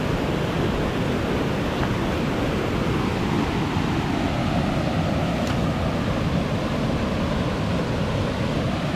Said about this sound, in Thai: น้ำไหลแรงนะครับ น้ำกำลังขึ้นน้ำกำลังมาแล้วครับ